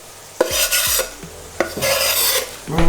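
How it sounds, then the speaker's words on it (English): Meatball mixture with salt, onion powder, garlic powder and fresh parsley being mixed by hand, giving a few close wet squelching and rubbing strokes with small slaps, no voices. "Now just going to give this a short mix."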